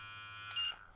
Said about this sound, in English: And you got the nice little beep on and off.